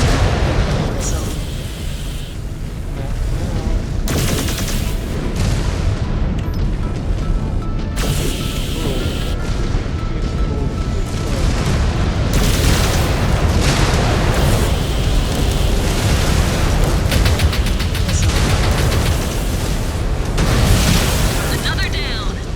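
Missile launches and heavy explosions boom through a MechWarrior 5 battle, a dense, continuous roar of blasts and rumble with repeated sharp impacts, under intermittent game voice callouts.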